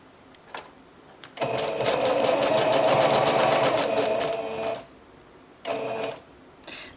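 A sewing machine stitches through a paper bag, a close rapid mechanical whirring burst of about three seconds, then a short stop and a brief second run.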